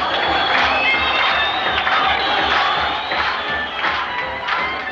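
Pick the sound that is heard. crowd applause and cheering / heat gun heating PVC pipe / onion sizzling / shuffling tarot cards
crowd applause and cheering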